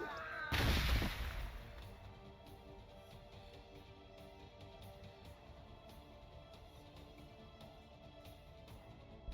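One heavy explosive blast, a gunshot or frag detonation in the Warhammer 40,000: Gladius strategy game, fades into a long, low rumbling tail and soft background noise.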